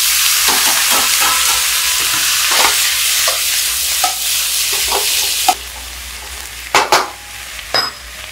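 Mustard greens hit a wok of fried ginger over high heat and sizzle loudly and steadily, the hiss easing partway through while a spatula scrapes and clanks against the metal.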